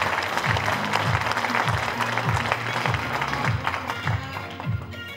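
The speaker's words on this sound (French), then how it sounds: "Sous les applaudissements." Audience applause at a New Year's greetings event for a chamber of trades, a full crowd clapping loudly and continuously, with a steady rhythmic low thumping running beneath the clapping throughout.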